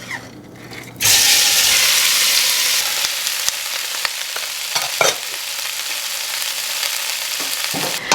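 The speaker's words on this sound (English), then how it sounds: "we are going to start by browning our cubes of meat" Beef cubes browning in olive oil in a pan for canned beef in wine sauce, a steady loud sizzle bursting in after a quiet second and running on with scattered spits and pops, no talk.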